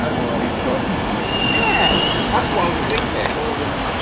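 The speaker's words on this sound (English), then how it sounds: "got this Virgin Trains West Coast service bound for Liverpool Lime Street from London Euston" Virgin Trains West Coast service bound for Liverpool Lime Street passes through Stafford station on the West Coast Main Line, a loud close rumble of wheels on rail with a brief squeal and metallic clanks.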